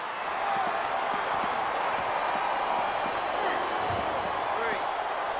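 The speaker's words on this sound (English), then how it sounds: "This capacity crowd is making their opinions known tonight." A steady, roaring arena crowd from the wrestling video game WWE Smackdown vs Raw 2007 fills the whole stretch at an even level, with commentator voices talking over it.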